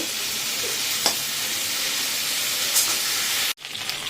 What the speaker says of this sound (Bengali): এইটা একটুখানি ভালো করে ভেজে নেব।